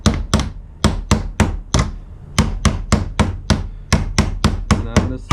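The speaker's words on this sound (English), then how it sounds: "a regular steel hammer, and I'm going to do it on this surface that has a lot of give and not an anvil" A regular steel hammer strikes a bowed sabre blade resting on a yielding surface instead of an anvil, giving about fifteen loud, dull, close blows in a steady rhythm with a brief pause partway through.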